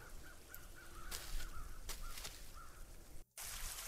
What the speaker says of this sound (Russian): ворон, короче, со сломанным крылом, я должен вернуться и покормить его